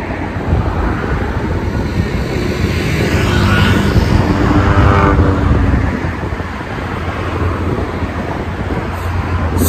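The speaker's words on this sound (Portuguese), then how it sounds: "Olha o barco ali." A boat passes by outdoors, its engine noise swelling to a loud, broad wash at the midpoint and then easing off. Background traffic hum runs steadily underneath.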